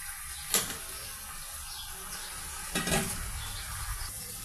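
Beef and potatoes are stir-fried in a pot over a low, constant sizzle, broken by two sharp scraping strokes of a spoon against the metal, one early and one later. There is no speech.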